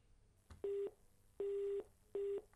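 Telephone busy tone after a call to a live phone-in show disconnects: three steady electronic beeps with short gaps in an even rhythm, clear but not loud, with no talking.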